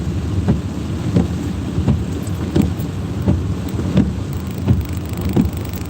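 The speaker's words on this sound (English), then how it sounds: "It's raining pretty hard over here." Heavy rain pours steadily in Baltimore City with a constant dense hiss, and low muffled thumps recur roughly every half second to second beneath it.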